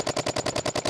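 A paintball marker fires a rapid string of about ten evenly spaced shots in one second during an off-season game, loud and close with no talk.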